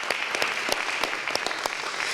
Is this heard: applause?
yes